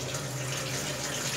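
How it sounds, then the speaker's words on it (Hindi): Steady rush of cold tap water pouring onto drained vegetable noodles in a kitchen, a continuous close, moderately loud stream with no talking. "हमने नूडल्स को ड्रेन कर लिया है, अब इसमें हम ठंडा पानी ऐड करेंगे।"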